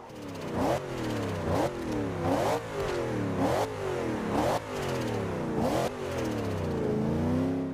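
A turbocharged Camaro Z/28 in the Forza Horizon 2 video game revs repeatedly, the engine climbing in pitch through several quick gear runs with short drops between them, loud and close throughout with no talking.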